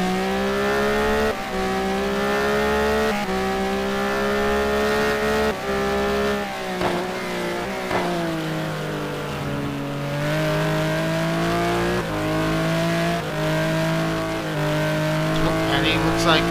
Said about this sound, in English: Sounds like he's off the throttle.